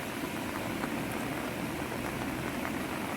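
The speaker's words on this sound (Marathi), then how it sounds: "पाऊस कालपासून पडतो आहे पाऊस नदीला बघा पूर आला आहे" Heavy monsoon rain and floodwater in Vaibhavwadi, with a flooded river running over the road and bridge, make a steady, dense rushing roar that stays loud and unbroken throughout.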